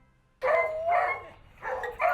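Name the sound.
dog barking, beagle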